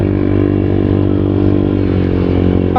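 Motorcycle engine climbing a hill, a steady close drone with a low harmonic hum throughout, rising slightly in pitch near the end, no voices.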